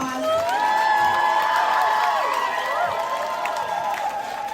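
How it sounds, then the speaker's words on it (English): Audience at a live show cheers and applauds a band on stage, with whoops and shouts rising above steady, dense crowd noise that holds strong throughout and tapers only slightly at the end. "Another big round of applause."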